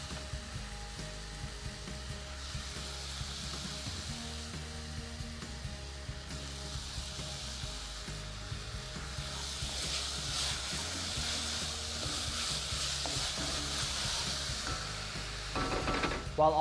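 Salted onions soften in a pan with a steady, moderate sizzle that hums on for the whole stretch, with a louder clatter of pan or utensil right at the end.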